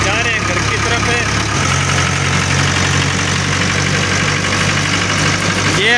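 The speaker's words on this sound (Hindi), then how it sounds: "तो अभी फाइनली बैठ गए हम ट्रैक्टर के ऊपर, और ये कर रहे हैं ड्राइव मेरा भाई छोटा दीपें" A tractor engine runs loud and close with a steady low chugging drone, its pitch dropping slightly partway through as the idle settles, with no break in the sound.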